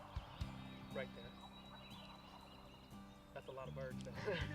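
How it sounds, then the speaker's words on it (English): Wild turkey gobbling in Missouri woods on the opening day of turkey season, faint and distant calls rolling out over a low outdoor hum, with quiet voices nearby. "There's always turkeys."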